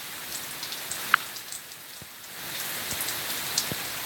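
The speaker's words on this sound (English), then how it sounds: "You can see the rain is coming down straight." Rain falls straight down onto a porch in Virginia on an evening storm, a steady close patter with a few sharper individual drops standing out.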